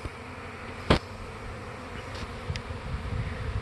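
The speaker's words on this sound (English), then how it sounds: "I don't know if you guys can see all them bees or not." Swarming honey bees buzz around a hive outdoors, a faint steady drone with one sharp nearby click or tap early on.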